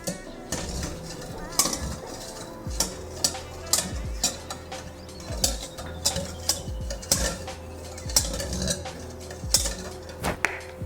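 Chicken liver bistek sauce being stirred in a pan, a utensil scraping and clinking against the metal in an irregular rhythm of sharp taps, with voices talking over it.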